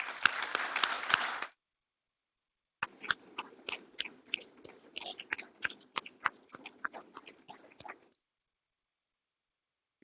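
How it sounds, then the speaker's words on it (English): Scattered clapping from a small audience at a military commissioning ceremony for graduates, with a short dense burst of applause, a pause, then several seconds of sparse individual claps. "let's give a round of applause to all of our military graduates here today."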